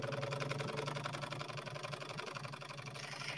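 A 109-year-old antique Singer sewing machine with a new belt runs steadily, a fast even mechanical whir and clatter held close and alone for a few seconds.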